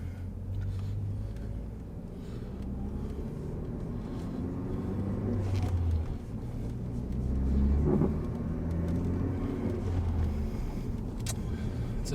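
Ford Focus ST with an aftermarket downpipe on a road test drive, its steady low engine and exhaust rumble with road noise from inside the car, rising slightly under acceleration with a couple of faint knocks and no talk.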